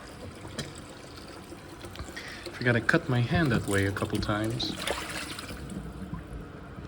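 Water trickles and pours into a container in a soft, close stream, mostly buried under someone talking nearby.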